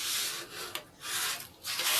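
Brush scrubbing across a watercolor ground painted surface, a close, rough rubbing in repeated back-and-forth strokes with brief pauses between passes.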